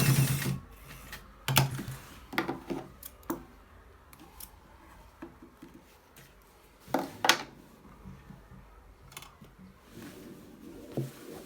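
A sewing machine stitches a shirt collar in short bursts, with mechanical clicking and whirring runs separated by quieter pauses and light handling noises, fairly close and moderately loud.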